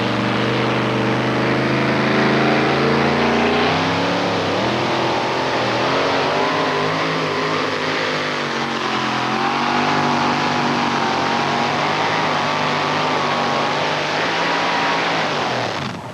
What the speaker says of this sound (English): Well, tonight, the yellow truck has beat the red truck for Wayne Rausch.